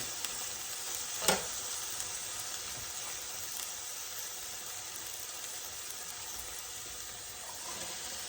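Beef strips fry in a hot pan with a steady, close sizzle and hiss that holds evenly throughout, broken by one brief clatter near the start, with no talking.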